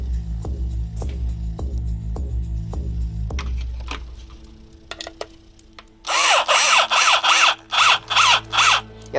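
A power drill drives screws into a homemade wooden guitar pedal board: a steady throbbing whir with regular pulses runs for several seconds, then, after a pause, comes a series of short, loud, close drill bursts.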